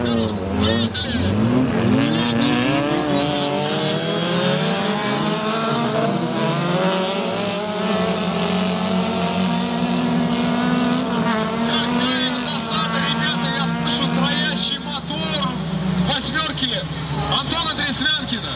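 Autocross race cars on a dirt track revving and accelerating away from the start, several engines rising in pitch together in a loud, layered roar while a voice talks over them.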